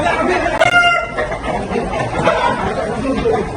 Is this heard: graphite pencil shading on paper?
no